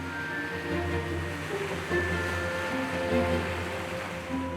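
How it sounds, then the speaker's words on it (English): Water taxi boat crossing the Baltic Sea, its steady low engine drone running under continuous wash of waves and wind, fairly close and even throughout with no talking. "You can have yourself chauffeured home in a water taxi."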